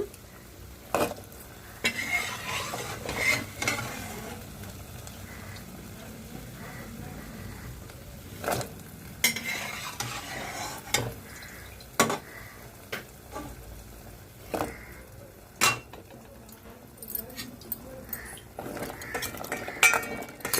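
Kakinada gottam kaja pastries turned over and over in lukewarm sugar syrup, with scattered clinks and scrapes of a utensil against the pot and soft stirring between them.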